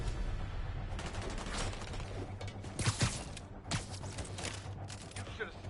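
Soldiers open up with gunfire in the Spider-Man Remastered video game, a steady rattle of shots under low rumbling game noise with a few louder bursts near the middle.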